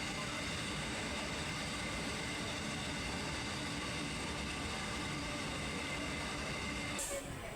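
A train at Mantralaya railway station gives a faint, steady rumble throughout, heard from inside or nearby with no clear voices.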